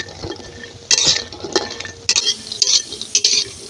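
Pumpkin bori fries in a pan while a utensil stirs it, giving sharp scraping clinks and knocks in irregular bursts over a low background of sizzling, with no voices.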